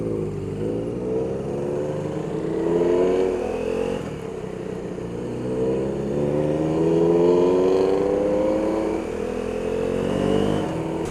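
A 1967 Ferrari 328 GTB engine revs and pulls away in repeated rising sweeps, fairly close and loud, with the pitch climbing through each gear before dropping and building again.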